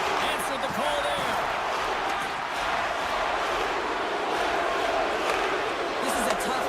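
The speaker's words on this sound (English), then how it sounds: "the crowd certainly doesn't like it, booing all over the place" A crowd booing and roaring throughout an ice hockey video game, a steady loud mass of voices with a commentator-like voice talking over it.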